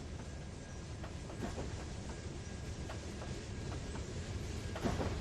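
A train in Trainz 2019 rolls along the tracks with repeated clickety-clack beats over a steady rumbling bed, fairly close and continuous.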